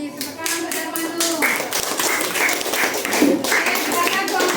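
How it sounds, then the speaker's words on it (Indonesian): Classroom audience clapping for a student presenter after a group presentation, a steady patter of many hands throughout with voices talking over it. "Tepuk tangan untuk Darmanu."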